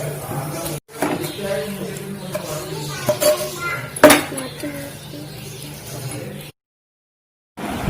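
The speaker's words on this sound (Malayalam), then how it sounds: "സോ ഇതൊക്കെ ഒന്ന് ടൈറ്റ് ആവുന്ന വരെ നമുക്കൊന്ന് മിക്സ് ചെയ്ത് കൊടുക്കാം." Ingredients are mixed in a bowl during a children's cooking competition, with intermittent scraping and clinking of utensils against the dish, a sharp clink midway, then a short silence.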